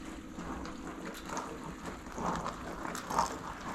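Dishwasher spray arms spin and spatter water against the inner walls, a steady muffled hiss and slosh with faint gurgling, heard alone at low level.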